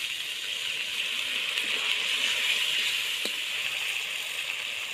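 Spices frying in a pan with salt and turmeric while cooking chicken curry, a steady close hiss of sizzling with one brief clink partway through, no voices.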